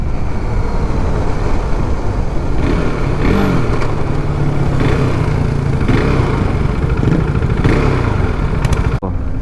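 A superbike being ridden on an open road, its loud exhaust droning steadily close up with engine rumble and rising revs throughout, cutting off abruptly near the end.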